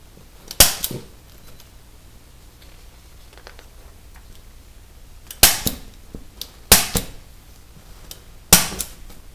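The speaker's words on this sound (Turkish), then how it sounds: "Şimdi artık tüfek antrenmanlarına geçeceğiz." Rifle shots fired during shooting training in a video game, four sharp cracks spaced irregularly, one early then three close together later, loud against a quiet background.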